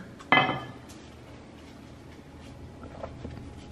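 Wine glasses clink once in a toast, a sharp bright ring that decays quickly, followed by quiet room sound and faint movement with no talking.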